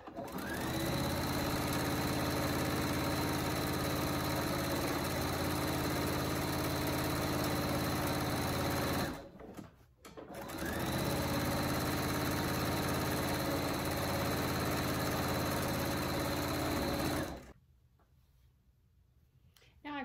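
A sewing machine stitches a fabric pouch with a steady, loud, continuous motor whir. It pauses briefly near ten seconds, resumes, and then stops near the end.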